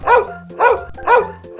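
A police dog barks in a quick, steady run of four sharp, close barks, loud and evenly spaced with no talking.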